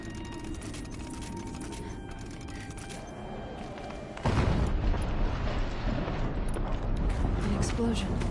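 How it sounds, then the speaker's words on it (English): A loud explosion bursts in the video game Horizon Zero Dawn, a sudden broadband blast that cuts in midway over steady rumbling game noise and keeps roaring for several seconds. "An explosion."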